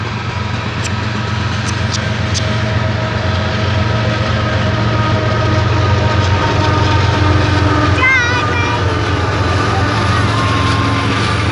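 A BNSF freight train rolls past close by with a steady loud rumble and rhythmic wheel clatter, a brief squeal near the end.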